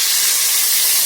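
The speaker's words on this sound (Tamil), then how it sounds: "எண்ணெய் காஞ்சதும் நம்ம வந்து கட் பண்ணி வச்சுருக்கிற தக்காளி, கருவேப்பிலை தான் போட போகிறேன்." Chopped tomato and curry leaves drop into hot oil for a mutton curry and hiss in a loud, dense, sizzling burst up close. The burst lasts about a second with no voices.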